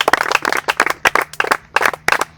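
Children in a classroom in the DR Congo applaud a pupil with a rhythmic run of sharp, bright claps in quick uneven groups, loud and close, with no talk over them.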